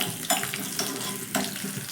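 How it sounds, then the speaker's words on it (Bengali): Whole cumin and five garlic cloves fry in oil in a pan, a close, steady sizzle punctuated by three brief scraping stirs. "এখানে সুন্দর করে মশলা ভাজা হয়ে গেছে, রসুনের কালারটা হালকা চেঞ্জ হয়েছে"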